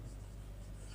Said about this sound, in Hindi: मैं यहाँ पर लिखता हूँ